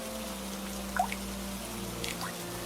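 Water drips from a leaking roof of a small mud house in heavy rain, a few soft drops falling onto a steady wet background hiss.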